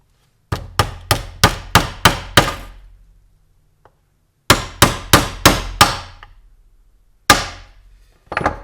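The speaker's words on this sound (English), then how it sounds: "actually finish hammering your nails all the way through." Hammer strikes driving nails through Kato Unitrack with a nail set: a quick run of six sharp, ringing taps, a pause, five more, then two final blows, close and loud with no talk.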